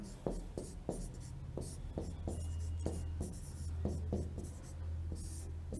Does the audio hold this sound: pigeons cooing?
no